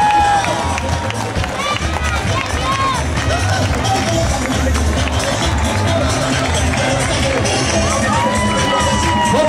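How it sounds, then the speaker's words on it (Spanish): A crowd cheers and shouts, with children's voices, along the route of the 2008 Coatzacoalcos carnival parade as school floats pass; the dense, loud roar continues without a break under an announcer. "a ver ese aplauso que se escuche."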